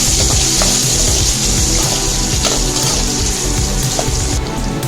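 Garlic frying in a pan for crab gravy crackles and sizzles loudly and close, with scraping stir sounds running steadily throughout.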